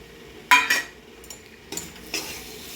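Banana pieces are stirred and sautéed in a pan, with a few sharp scrapes and clinks of a utensil against the pan over a soft sizzle.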